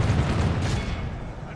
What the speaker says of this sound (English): let's just try to get the handgunners to fire point blank into these Black Orcs